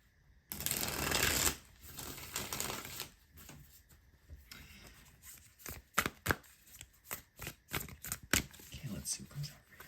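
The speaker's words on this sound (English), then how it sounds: "let me shuffle it one more time." Tarot cards shuffled in a dense riffle burst, then a series of quick crisp snaps and flicks, close by, with soft talking in the background.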